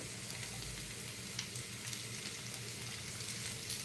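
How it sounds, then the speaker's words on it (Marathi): Onion frying in hot fish-curry oil in a pan until browned, a steady low sizzle running continuously at moderate level with no talk. "कांदा चांगला ब्राऊन रंग तसं भाजून घेऊया"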